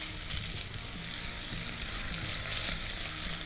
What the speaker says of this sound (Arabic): بشوحهم لغايه لما ريحه الثوم والجنزبيل تطلع كويس جدا